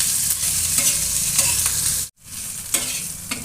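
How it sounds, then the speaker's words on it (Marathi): Green chillies stir-fried with salt in a spoonful of oil, a steady loud sizzle broken by scraping spatula strokes, with a brief sharp drop to near silence partway through before the frying resumes. "आता एक छान एकजीव करून घ्यायचं बघा तेलामध्ये."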